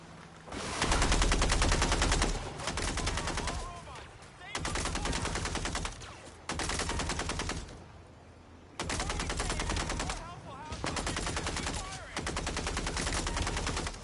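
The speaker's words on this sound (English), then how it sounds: "I should be shooting the robots, not the humans in the vehicles." Sustained automatic gunfire in the video game MindsEye: long rapid bursts of close, loud shots separated by short pauses, repeating across the whole stretch.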